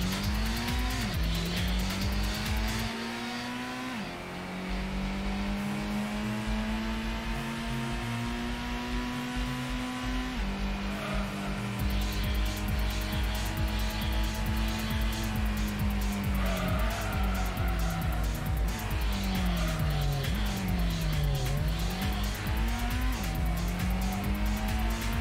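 Car racing in a PlayStation video game run on the Duckstation emulator, a continuous synthetic engine whine rising and falling through gear changes, with repeated tire squeals and skids throughout.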